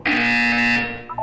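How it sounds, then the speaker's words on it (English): An electronic buzzer in the video game Portal 2 sounds one loud, steady, harsh tone for about three quarters of a second and then cuts off, followed by faint short tonal blips. "You will hear a buzzer."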